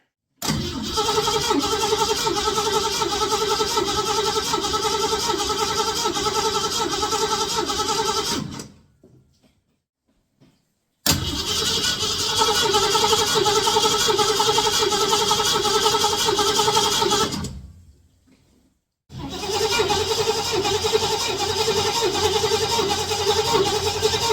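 A 1966 Ford Mustang engine cranks cold on the starter in three long, steady, rhythmic bursts of about eight seconds each, with brief silent pauses between them during a compression test.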